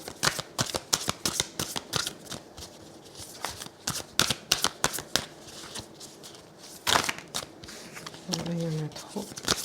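Tarot cards are laid out one after another on a surface, giving a quick run of crisp slaps and shuffling flicks, with a short voiced sound near the end.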